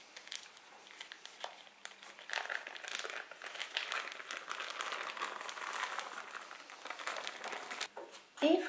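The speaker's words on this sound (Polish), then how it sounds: "Zdejmujemy papier do pieczenia." Baking paper crinkles and rustles as it is peeled away from a freshly baked sponge cake just out of its tin: soft, continuous crackling close by, quiet throughout, with a slightly louder rustle at the very end.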